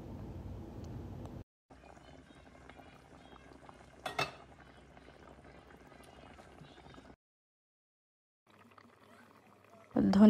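A pot of boal fish curry with potatoes and added water bubbles on the stove, a soft, steady simmering broken by abrupt silent gaps, with a louder burst at the end.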